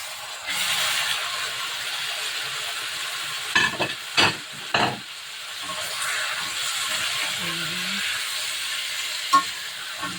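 Chicken pieces stir-fried with ampalaya (bitter gourd) in a pan for an Ilocano dish, a steady broad sizzle with several sharp clatters of a utensil scraping and stirring partway through.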